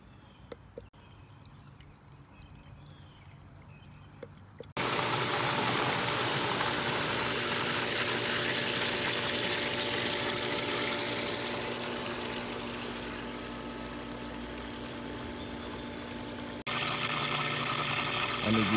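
Swimming pool filter switched to backwash, with a loud steady rush of water flowing through the system that starts abruptly after a quieter opening, fades slightly, then surges again near the end.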